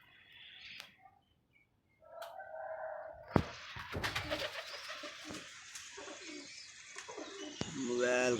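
Pigeons coo and flutter nearby in faint, intermittent bursts, with scattered rustling and a few sharper knocks mixed between the calls.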